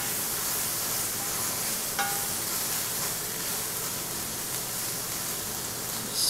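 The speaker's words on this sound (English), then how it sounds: "Stir that up to make sure our salt got everywhere" Seasoned vegetables and seared beef sizzle steadily in a pan while being stirred, a continuous soft frying hiss with faint scraping, no talk.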